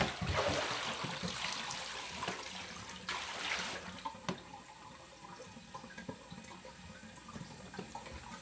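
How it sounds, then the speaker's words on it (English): Water is poured out into a sink after film developing, a rushing splash for about four seconds, then trickling and dripping that fades into faint scattered drops, with no talking. "I'm gonna pour this water out."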